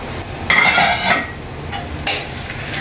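Masala with chopped coriander sautéing in oil for Agri chicken, a steady sizzle broken by a few loud stirring scrapes of a spoon against the pan, close up and without talk.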